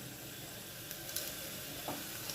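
Onions and dried red chili frying in oil for a tempering, a faint continuous sizzle with a few soft clinks and a brief stir.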